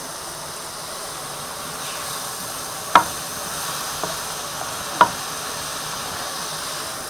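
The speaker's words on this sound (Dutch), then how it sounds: "Dan moet je dat even flink roer bakken" Chicken and parsnip rice stir-fried in a pan give off a steady, even sizzle and hiss throughout, with two or three sharp utensil clicks against the pan standing out; no one speaks.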